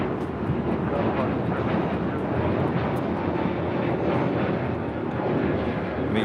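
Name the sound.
Delta Boeing 767-300ER jet departing LAX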